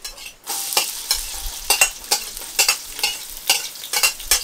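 Chopped onion frying in a pan for a Kenyan dish, a sizzle broken by repeated scraping stir strokes in an uneven rhythm, close and fairly loud, with no talk over it.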